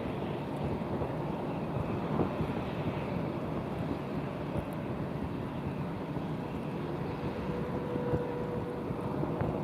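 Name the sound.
wind blowing at airport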